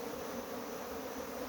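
Africanized honey bees buzz steadily in an open beehive super in Guyana, a dense, continuous hum filling the whole moment at close range without a break.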